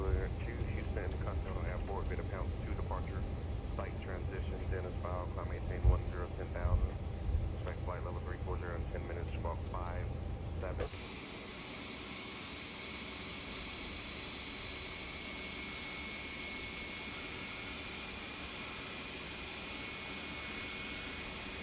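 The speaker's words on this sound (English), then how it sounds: "So we're going to begin with the engine mode selector to ignition start" An Airbus A320neo engine in X-Plane 12 spools up under a voice talking through the cockpit start, then settles into a steady, even jet whine and rush once the talk stops.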